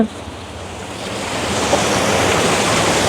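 Water rushes over stones in a small rocky stream in a hill-country tea estate area, giving a steady, loud, broadband rush that swells slightly over a few seconds with no voices.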